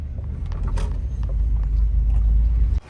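A Subaru with a crooked steering wheel after a frame-damage repair rolls into a shop, a steady close engine rumble with low droning tone and faint clicks, ending abruptly.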